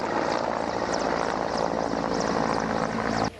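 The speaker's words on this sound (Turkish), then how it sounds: "Tabii gün ağarınca artık havadan da müdahale ediliyor yangına. Bakın burada helikopterle" A firefighting helicopter's rotor thumps steadily overhead at a wildfire, loud and continuous with a broad engine roar, cutting off abruptly at the end.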